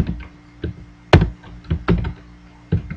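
A computer keyboard is typed on in short bursts of close, crisp key taps, one louder thunk standing out, with no voices.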